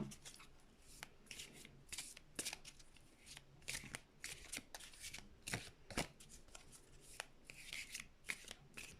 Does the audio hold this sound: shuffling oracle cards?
yes